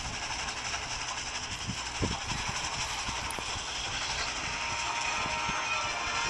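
A passing train rumbles steadily with rhythmic metallic clanks and rattling of wheels and cars, a constant mechanical drone with irregular knocks, fairly distant and without speech.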